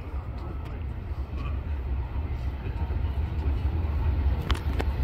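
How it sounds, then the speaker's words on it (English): Low steady rumble of a passing eastbound BNSF freight train with a trailing Norfolk Southern locomotive, heavy and continuous, with faint metallic squeals near the end. "Freight. Here's a freight train."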